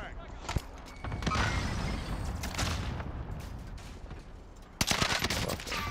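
Gunfire in a shooter video game: scattered sharp shots and bursts, with a loud close volley near the end, under players talking.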